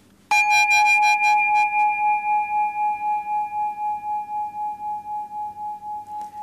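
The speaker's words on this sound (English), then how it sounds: "as the sound of the bell fades away" A single bell is struck once, giving a clear, bright metallic ring that slowly decays and fades over several seconds in a quiet room, with a gentle pulsing shimmer as it dies away.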